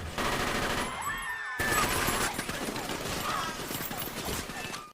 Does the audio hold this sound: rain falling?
no